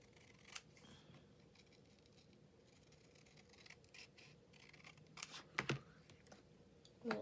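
Scissors trimming paper for scrapbooking, quiet close snips and rustles with a few sharper cuts near the end, no talking.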